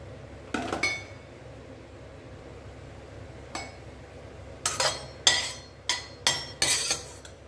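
Fresh turmeric and sesame seeds sautéing in a pan, a sequence of sharp metallic scrapes and clanks from a ladle against the pan, sparse at first, then a quick cluster of strokes, close by over a low background hiss.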